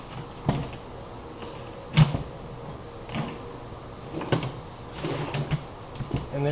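A drawer clicks into place in a shop-built spindle sander table, giving a few sharp, close knocks and clicks spaced over several seconds in a quiet workshop.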